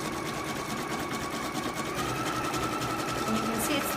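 A Kimberbell embroidery machine stitches a basting line across a pennant of fabric in a loud, steady, rapid mechanical whir that runs without pause, close up.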